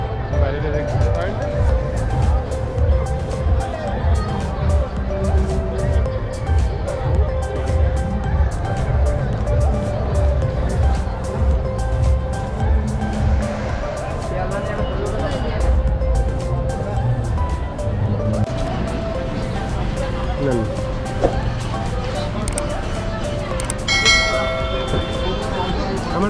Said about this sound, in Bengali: এই হচ্ছে শিয়ালদা রেলওয়ে স্টেশন